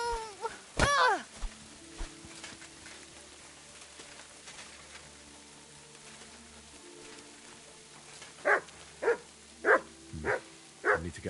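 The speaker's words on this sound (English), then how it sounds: "You'd better call back that dog." A dog barks repeatedly in Kingdom Come: Deliverance II, one bark at first and then a rapid run of loud barks near the end, with a voice speaking earlier over faint background ambience.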